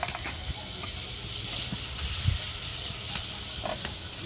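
Garlic fries in a pan on a farm stove while feijoada is cooked for lunch, giving a soft, steady sizzle and hiss with a few small pops and stirring knocks, fairly quiet and close.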